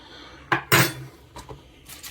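A cheap metal bottle opener and spoon tool from an AliExpress order is handled, giving a few short metallic clinks and rattles close up, with brief quiet gaps between them.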